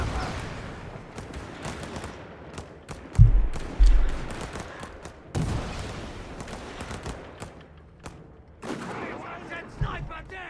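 Gunfire crackles across a Company of Heroes 3 battlefield, with a sniper among the repeated shots and heavier thumps near the middle, set in dense continuous combat noise.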